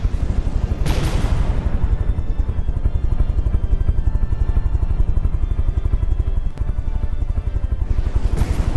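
Dense, continuous naval gunfire from warships in the From The Depths video game, with rapid, steady rhythmic blasts and a heavy low rumble throughout and no talking.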